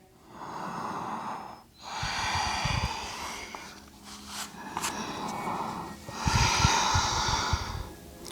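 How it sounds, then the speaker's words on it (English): Slow, deep breathing in a yoga forward fold from half hero pose: long audible inhales and exhales through the nose, close and fairly loud, repeating in a steady cycle with a few snort-like bursts. "Keep breathing here."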